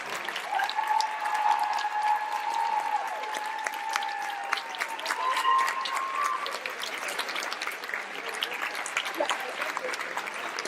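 A conference audience, standing for a speaker's stage entrance at a planner convention, claps steadily throughout, a dense even applause with a few faint voices underneath.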